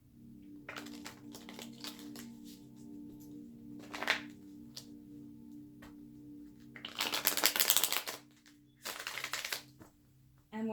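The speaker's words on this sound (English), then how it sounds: "You know, sometimes I do intend to shuffle twice" Tarot cards are shuffled by hand in bursts: light riffling and sliding taps early on, then two longer, louder shuffling flurries near the end, with quiet pauses between.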